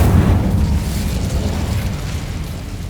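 Incendio fire spell explosion in the game Hogwarts Legacy: a loud, deep rumbling blast that swells at once and then rolls on steadily with a low roar, fading only slightly over a few seconds.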